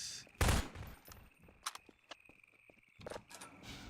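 Gunfire in Half-Life 2 cracks in a loud close burst, followed by scattered sharper shots and clicks over a quiet hum, with a later shot near the end.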